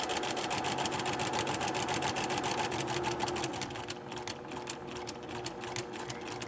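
A sewing machine runs steadily, stitching straight along a marked line in a rapid, even mechanical rhythm, then slows and quiets for the last few seconds; close and alone with no talking.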